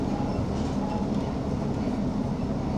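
ScotRail Class 156 diesel train running on rails through the Nith Valley near Cumnock, heard from inside as a steady low rumble of wheels and carriage noise.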